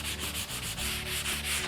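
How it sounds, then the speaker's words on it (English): Light hand-sanding with sandpaper over a water-based finish, a continuous close rubbing hiss with gentle back-and-forth pulses and no voices. "So just lightly sand it and keep feeling it to make sure that"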